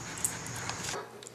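A dog whimpers and yips faintly in a quiet indoor room, a few short high whines over a low background hum, with no talking.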